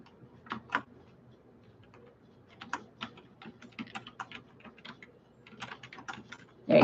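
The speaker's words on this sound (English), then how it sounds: "I will type that word out" Soft, irregular keystrokes on a computer keyboard clatter in quick bursts and short pauses, fairly quiet and close, with no talking over them.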